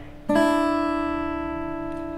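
Two guitar notes are rolled quickly downward in a short arpeggio, then sustain and fade gently in a quiet room.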